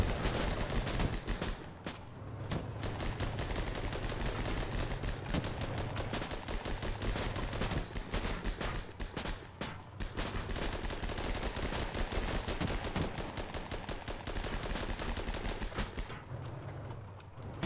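Dense, continuous gunfire from the tank combat game Armored Battle Crew, with rapid overlapping shots and machine-gun bursts running loud and steady throughout, no voices.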